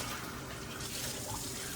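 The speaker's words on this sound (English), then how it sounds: "just turn the water on for you because I know you're gonna need to wash your hands" Water runs steadily from a kitchen tap for hand washing, a continuous close hiss that stays level for the whole stretch.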